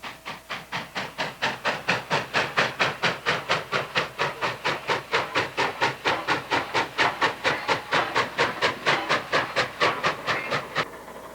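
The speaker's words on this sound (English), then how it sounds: "Some engines have high-pitched whistles." A steam train engine chugs in a steady, rapid rhythm of sharp puffs, loud and close, running on without pause for the whole stretch.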